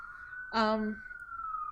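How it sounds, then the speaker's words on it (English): A steady siren wails on and on from a city street outside, with a brief burst of a voice partway through. "Sorry about the sirens."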